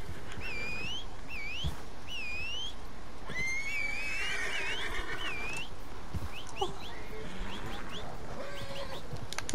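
A horse whinnying in Red Dead Redemption 2, several high whinny calls and a longer neigh across a constant ambient background.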